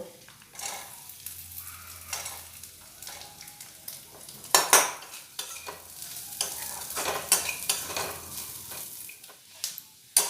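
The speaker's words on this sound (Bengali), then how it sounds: "এবারে ওই তেলেই ভেজে নেব নারকেল" Chopped coconut sizzles steadily as it fries in mustard oil in a wok for vegetarian khichuri, with repeated scrapes and clinks of a metal spatula stirring close by and no talk.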